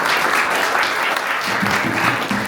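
Dense, sustained audience applause fills a concert hall at a HEARTS song event, steady and loud throughout as the crowd claps for a performer.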